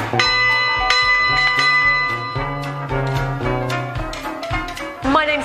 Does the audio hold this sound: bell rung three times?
yes